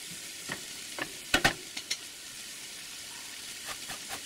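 Vegetables frying in a pan over medium heat, pepper and carrot for a soup base, with a soft continuous sizzle broken by several sharp scraping stirs of a utensil, close and alone.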